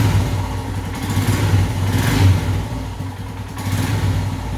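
A Royal Enfield Himalayan motorcycle engine, its throttle body ported and polished, runs steadily close by with a low, even throb and mild mechanical clatter, and no voices.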